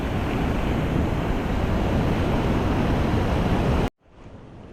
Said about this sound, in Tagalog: Biglang nagpaano na malalaking alon.